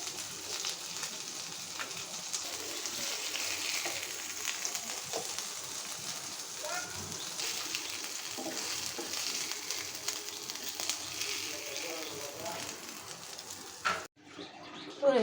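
Chicken meat fries in a pan with a continuous bright sizzle and crackle, with occasional stirring clatter, then it cuts off abruptly near the end.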